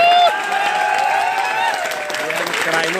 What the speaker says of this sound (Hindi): एक बार जोरदार ताली दीजिए बिहार के लिए।